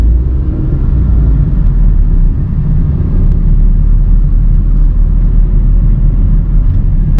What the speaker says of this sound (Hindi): जितना भी जंप है बहुत अच्छी तरह से आप निकाले हैं गाड़ी को